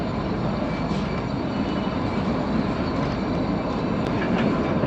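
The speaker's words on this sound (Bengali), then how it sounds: "আমাদের ট্রেনটি ধারামপুর স্টেশন থেকে রওনা দিল" The Kalka–Shimla toy train runs steadily along the rails after leaving the station, a loud, dense and continuous rumble of wheels and carriages heard up close with no voices.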